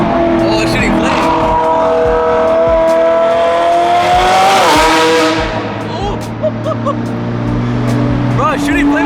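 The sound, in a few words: BMW F80 M3 drift car engine popping, shooting flames on throttle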